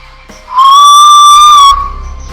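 A single clear, sustained whistle, loud and steady with a slight pitch wobble, lasting about a second over a quiet background.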